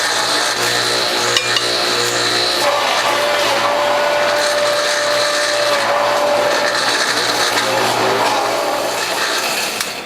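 A Norwalk premium juicer grinding French sorrel runs with a loud, continuous, steady whirring drone from start to finish, close up and alone.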